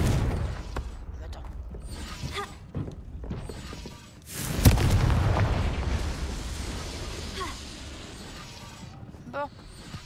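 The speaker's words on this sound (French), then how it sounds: "Pour mettre le feu. Pour faire le truc. Confringo." A Confringo fire spell goes off in Hogwarts Legacy as one sudden, loud explosive burst midway, followed by a crackling, roaring tail that fades over several seconds; a voice speaks briefly beforehand amid mechanical game sounds.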